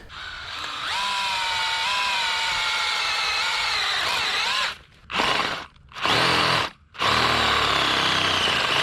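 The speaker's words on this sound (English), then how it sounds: "Okay, so I'm going to go drill this hole out" A power drill whines steadily as it bores a half-inch hole in a floor, its pitch shifting, then cuts out briefly twice before spinning up again.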